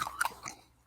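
A crunchy snack of coconut, pumpkin seeds, quinoa and sunflower seeds being bitten and chewed, a few quick, faint close-up crunches in under a second.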